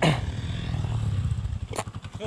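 A 250cc enduro motorcycle, such as an Avantis 250 Pro or Minsk X250, roars in sand with a steady throttled engine drone, fading near the end while voices shout over it.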